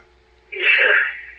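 A single short sneeze bursts out after a brief quiet moment, close and fairly loud.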